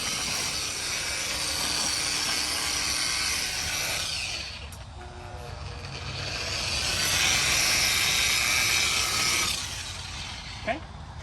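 A handheld motorcycle polisher spreads polish over a bike in good condition at low speed, giving a steady close whirring hum that swells and eases across the clip.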